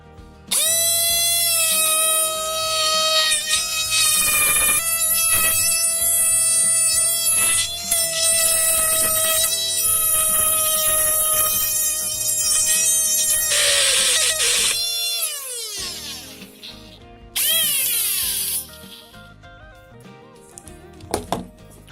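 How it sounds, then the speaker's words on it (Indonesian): A small homemade electric drill runs with a high buzzing whine rich in harmonics, holding steady for long stretches, winding down and briefly restarting near the end. "di sini saya akan memakai bor yang sudah saya buat di video sebelumnya"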